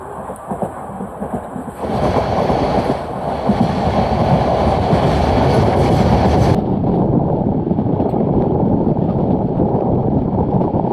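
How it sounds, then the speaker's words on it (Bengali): Bangladesh Railway container freight train passing alongside, a loud continuous roar of wagons and wheels that swells after a couple of seconds and holds steady, with faint clatter. "আর এই সব কন্টেনারবাহী ট্রেন হচ্ছে বাংলাদেশ রেলওয়ের একটি লাভজনক ট্রেনগুলোর মধ্যে একটি।"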